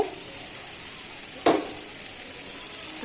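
Potatoes and onions fry in a pan with a steady close hiss and sizzle, broken once by a brief louder scrape or stir midway.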